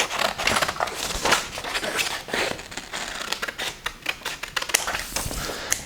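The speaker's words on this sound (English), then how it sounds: "I just happen to have some scissors here so that I can make it come off pretty easily" Crisp, rapid snipping and crinkling of paper up close as scissors trim a sheet to a square for origami, a steady run of short cuts with no talking.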